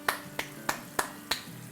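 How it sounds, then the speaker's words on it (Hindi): Five sharp, evenly spaced hand claps about a third of a second apart, crisp and close, in a quiet kitchen setting with no voices. "तालियां तालियां।"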